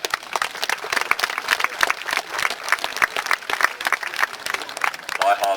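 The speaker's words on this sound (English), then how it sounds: "a round of applause there for our buglers from the diehards" Lively applause for the Diehards' buglers at an outdoor history festival, a crowd clapping hard with distinct, uneven hand claps close by, and a voice rising near the end.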